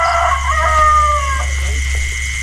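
A rooster crows loudly and close by, one long drawn-out call over steady background noise.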